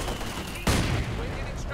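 A Bofors emplacement fires in a Company of Heroes 2 battle, one loud, sudden blast cutting through a background of distant gunfire and rumbling war ambience.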